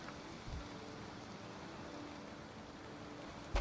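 Steady rain falls in the game Valheim, a soft, even wash of hiss with no talking, broken near the end by a short louder bump.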